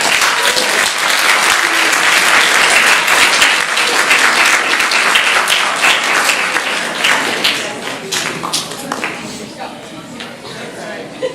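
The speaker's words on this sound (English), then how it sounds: "let's give this new cohort a big round of applause" Loud, dense audience applause at a TMS Stars school event welcoming a new student cohort, sustained and close before thinning slightly toward the end.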